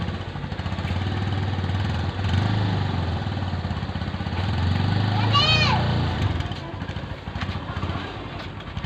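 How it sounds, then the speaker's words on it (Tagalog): A motorcycle engine runs steadily nearby, droning at a constant idle, with a short high squeal partway through. "Paandar na kanyang motor."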